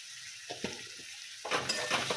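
A utensil stirs tomatoes and salt in a pan, with a few soft scrapes and then a louder, sizzling rustle of mixing in the second half.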